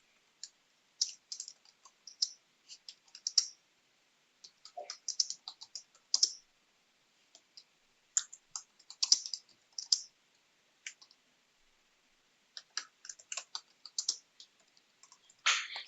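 Someone types a comment on a computer keyboard: uneven bursts of crisp, close key clicks separated by short pauses, with no talking.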